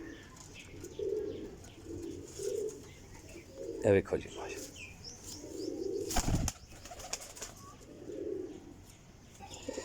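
A Golden Teddy pigeon cooing in repeated soft, low rolling phrases at a steady pace, with a brief wing flap and a sharp knock in between, while someone speaks briefly over it.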